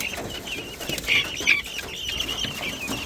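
Guinea fowl chicks, now grown big, cluck and chirp on a farm while wings flap in short bursts, a lively cluster of calls close by with no one speaking.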